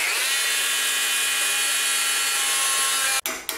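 A power saw bites into a wooden mast for a Hobby Kat catamaran, giving a close, steady high whine with a buzzing edge that cuts off abruptly near the end, followed by a short clatter.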